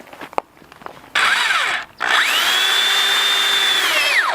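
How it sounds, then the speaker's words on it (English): A corded drill whirs loudly up close while installing a horse fence gate, a short burst, a brief pause, then a longer steady run that winds down at the end. "It's hard to beat a good corded drill."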